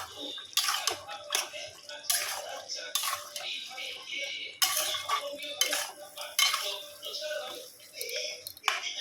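Washed mutton being stirred into spices in a pot, a series of close clanking scrapes and knocks of a ladle against metal with soft wet sizzling between strokes.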